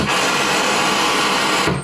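Loud, steady white noise from a signal generator, spanning 20 to 20,000 hertz, hisses evenly across the whole range, then cuts off abruptly near the end.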